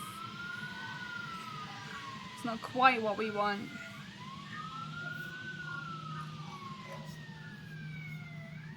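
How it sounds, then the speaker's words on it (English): A wailing emergency siren sound effect sweeps up and down over a low engine-like drone, while a person talks briefly over it in the middle. "That's sirens."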